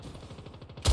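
Sniper rifle fire in a livestreamed shooter video game: a quick run of soft, evenly spaced shots, then one sudden loud, close blast right at the end.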